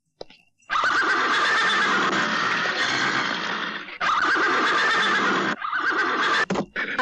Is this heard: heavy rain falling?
no